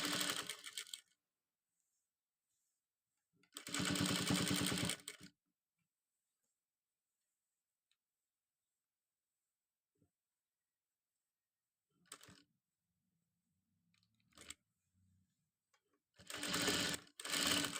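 A sewing machine stitches a school uniform top placket in a triangular shape, running in short separate bursts with long quiet pauses between them and a few faint clicks in the gaps.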